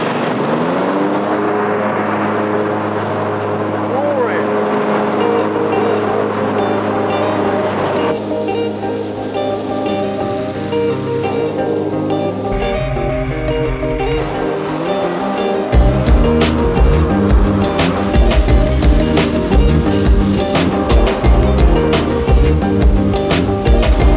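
A Cub Cadet XZ7 zero-turn ride-on mower engine drones steadily at full revs, close and loud, then shifts to a rougher, clattering roar as the blades engage.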